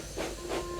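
Thomas the Tank Engine lets out a steady hiss of steam as he pulls away, a soft continuous rushing with a faint whistling tone, close and alone.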